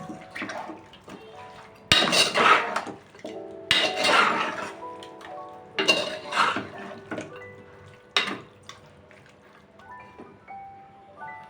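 Chicken curry being mixed in a pan, heard as repeated metal clinks and scraping of a utensil against the cookware in irregular bursts, close and moderately loud, with no talking.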